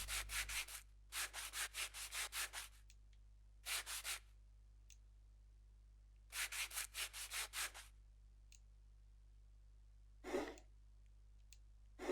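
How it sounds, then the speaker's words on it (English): A forearm part is sanded by hand with sandpaper in quick bursts of rapid rasping strokes, several runs of rhythmic scrubbing separated by quiet pauses and a couple of faint clicks. "Get the old sandpaper."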